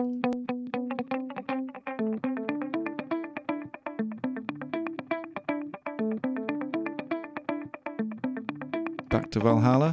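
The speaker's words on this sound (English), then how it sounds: "Over to Echo Boy." A repeated rhythmic melodic pattern plays through the Echo Boy delay plugin, its notes trailing into echoing repeats at a steady, loud level, with a brief burst of noise at the very end.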